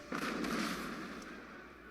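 Cannon fire in the Empire Total War video game: a loud booming blast followed by a rumbling decay, with a fainter second report shortly after.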